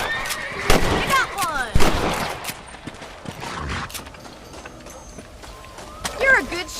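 Gunshots ring out in the Western video game Red Dead Redemption on PS3, a handful of sharp cracks scattered among hoof clip-clops and in-game character dialogue.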